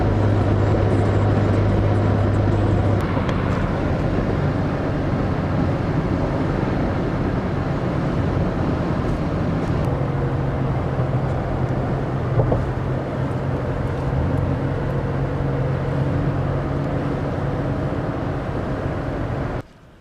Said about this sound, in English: We're just zooming along towards Florida, stuck in the midst of a Louisiana traffic jam